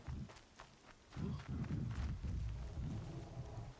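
Rain and rolling thunder in the video game Horizon Zero Dawn, with a steady wash of rainfall and low rumbles that swell after the first second and hold through to the end.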